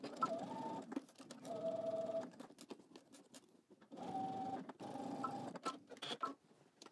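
A home sewing machine stitches a pant front to a yoke with a 5/8 inch seam allowance, running in steady whirring bursts of a second or two with short pauses between, faint and close.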